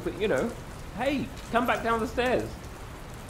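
Steady rain falls in the Dr Langeskov video game, a soft continuous hiss beneath people talking throughout.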